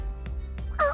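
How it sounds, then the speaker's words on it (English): A wild turkey gobbles during a Canadian spring hunt, one short, loud, warbling burst at close range, followed by faint soft knocks in a quiet background. "He's gobbling. Sounds like he's coming in fast."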